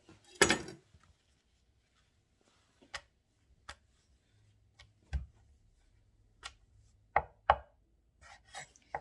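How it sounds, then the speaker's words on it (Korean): A knife slicing thin egg garnish (jidan) on a cutting board, sounding as sparse, sharp close taps spread irregularly through near silence, with one louder knock at the start. "이제 지단 썰겠습니다."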